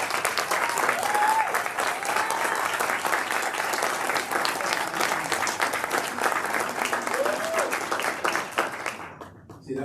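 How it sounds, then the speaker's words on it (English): A community gathering bursts into a warm round of applause, dense clapping from a crowd holding steady for several seconds before fading out abruptly at the end. "I think it would be fitting just to give him a round of applause"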